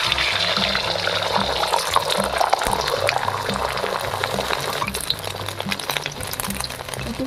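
Beaten egg for an omelette poured into hot oil sizzles loudly and steadily, a dense, continuous frying hiss that holds at a constant level from start to finish.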